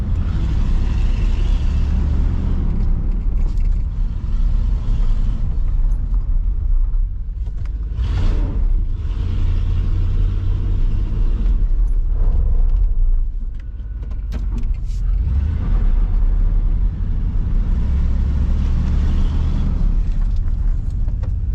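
A Chevrolet 1500 truck being driven hard in reverse and braked sharply, a loud, steady close-up rumble of the engine and road noise with a few dips and surges as it slows, and nobody talking.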